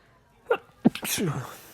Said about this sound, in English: I'm going to sneeze on camera